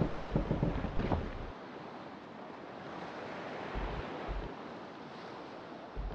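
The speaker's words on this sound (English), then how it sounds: "there's also, whoa, some big waves." Big ocean waves in the pirate survival game Salt 2: Shores of Gold wash in a continuous broadband rush, with low rumbling surges at the start and again later, and no voices.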